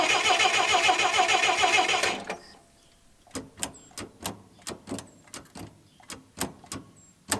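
An old 300,000-mile farm truck engine cranks without starting, a loud continuous starter churn for about two seconds, then a series of separate sharp clanks and clicks spaced irregularly in the quiet that follows.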